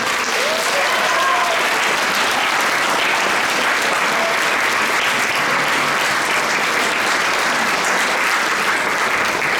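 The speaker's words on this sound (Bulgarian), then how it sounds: "Аплодисменти още веднъж." An audience applauds steadily, a dense even clapping that holds loud and close throughout.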